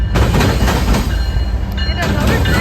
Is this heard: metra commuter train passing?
yes